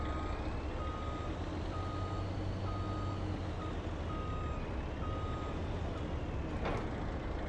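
A tractor in a farming video game backs up to hook a grain trailer, its reversing beeper pulsing at a steady, evenly spaced rhythm over a constant loud engine drone.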